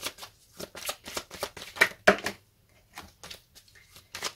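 Tarot cards are shuffled by hand at close range in a quick run of crisp riffling bursts, evenly paced at first and then thinning into sparser, softer flicks, with no talk over them.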